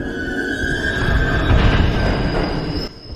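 A passing train in a TV drama, with a loud rolling rumble and a high sustained wheel squeal that rises, then cuts off abruptly near the end, with no talking.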